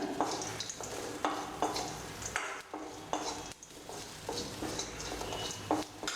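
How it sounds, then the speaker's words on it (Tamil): Ginger, garlic and coconut, with pepper, cumin and cardamom, dry-roasting in a pan for chicken kurma: steady scraping stirs and soft crackling sizzle, with repeated clinks of the spoon against the pan. "இஞ்சி வெள்ளைப்பூடு தேங்காய் இந்த ரெண்டு நிமிஷம் வெதுப்பி விடுங்க"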